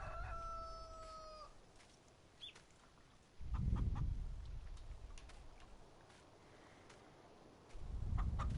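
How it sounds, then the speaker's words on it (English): Chickens in Farming Simulator 19 on a ranch: a rooster crows at the start, followed by scattered clucks and short calls over a low farmyard hum, with two louder low rumbles of activity mid-clip and at the end. "Noisy chickens."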